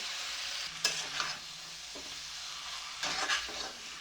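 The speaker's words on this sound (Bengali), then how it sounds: "মশলার সঙ্গে ফুলকপি আর আলু এক থেকে দু মিনিট কষে নেব" Cauliflower and potato pieces fry with spices in a pan for an egg curry, a soft steady sizzle with a few spatula scrapes and stirring strokes, fairly quiet and close, with no talking.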